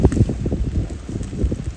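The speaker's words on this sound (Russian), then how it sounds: "А вот ветер, кстати, мне не нравится, он встречный пошел." Gusty headwind buffets the microphone on a raft with low, rumbling blasts that rise and fall continuously, close and fairly loud.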